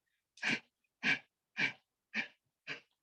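Forceful pranayama exhalations during a breathing exercise, five sharp, evenly spaced breath bursts about half a second apart, close and clear with silence between them.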